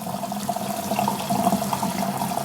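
Tap water runs steadily into a kitchen sink, a continuous close splashing hiss with no voices over it.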